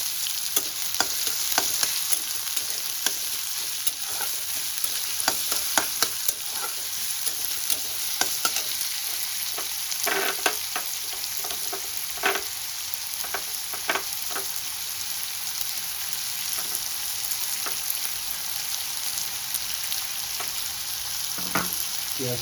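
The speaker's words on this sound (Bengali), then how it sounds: "এবার আমি কুচনো পেঁয়াজটা দিয়ে দেব। পেঁয়াজটা আমি একটু লাল লাল করে ভেজে নেব।" Chopped onions frying in hot oil in a pan, a continuous close sizzle with scattered crackles and frequent stirring clatters throughout, no talking.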